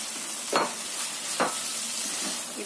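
Bean sprouts stir-frying in a hot pan for kwetiau goreng, a constant sizzle broken by two scraping stir strokes about a second apart.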